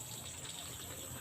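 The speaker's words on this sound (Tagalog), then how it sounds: "Papunuin muna natin ito ng tubig." Water runs steadily into a container, making a constant faint hiss and trickle for just over a second and ending in a brief splashy knock.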